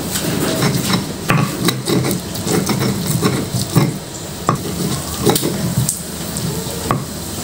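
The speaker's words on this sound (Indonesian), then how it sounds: "Sambal pelecingnya digoreng ini setengah matang supaya awet sampai sore ya" Sambal pelecing fries half-done in a pan for Balinese ayam betutu, giving a steady loud sizzle broken by repeated sharp scrapes and knocks of a utensil stirring against the pan.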